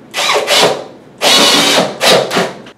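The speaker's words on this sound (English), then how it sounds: "Star pattern right here with 2-inch screws center." Power drill driving 2-inch screws into wood for a bunk bed, several short loud whirring bursts with brief pauses between them, close and with no talk.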